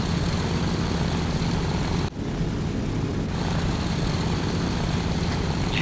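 An AC-130 propeller aircraft's engines drone steadily and loudly in flight, a dense unbroken roar with one brief dip about two seconds in.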